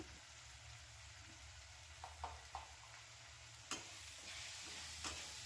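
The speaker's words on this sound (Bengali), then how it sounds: "এবার সব কটা মশলা ভালোভাবে নাড়িয়ে নেব" Spices stirred into frying Sankar fish curry in a pan: a faint, even sizzle runs throughout, broken by a few soft scrapes and taps of the spoon, quiet and without speech.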